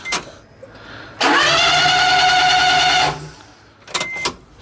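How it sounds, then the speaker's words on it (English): A Daihatsu S210P engine cranks fast without starting or building compression, a steady loud whir of about two seconds standing alone, with quieter mechanical clicks before and after. "She's turning fast and it doesn't sound like it's hitting any compression."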